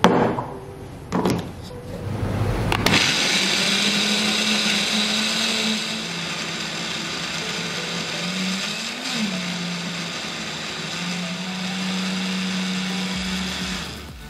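A blender grinds spice paste for jengkol rendang with a splash of coconut milk added, starting with a few clatters before a loud, steady whirring motor that wavers slightly in pitch as the mixture turns, running without talk.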